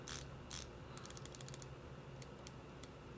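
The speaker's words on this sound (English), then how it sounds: "this definitely has a more pronounced clicking sound" Seiko Prospex SPB-series diver watch bezel being turned, giving a run of small, crisp ratcheting clicks close to the ear, with a couple of louder clicks at the start and sparse clicks later, over a quiet background.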